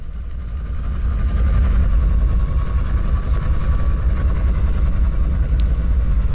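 A short Santa Fe oil train rolling in the Trainz simulator, a loud continuous low rumble of locomotive engine and wheels with a faint steady tone above it, no voices.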